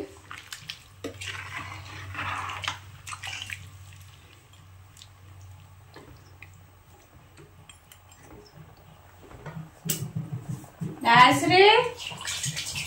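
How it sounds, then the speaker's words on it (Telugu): Water poured into a cooking pot of chicken leg pieces, a loud splashing gush near the end after a quieter stretch of low kitchen hum and scattered clinks, with a voice talking earlier. "నీళ్ళు సరిపలేదండి, మళ్ళీ సరిపడేంత నీళ్ళు అయితే వేసుకుంటాం ఫ్రెండ్స్."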